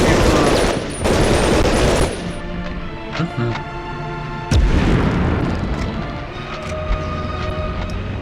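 Grenade blasts and gunfire in Medal of Honor Underground, with heavy booming bursts and rattling shots in several loud clusters separated by quieter stretches, a voice talking at times over the combat.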